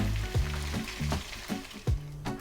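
A second batch of chicken pieces sizzles and spits in hot oil, a steady close frying hiss with crackling bursts and a low tonal hum running underneath.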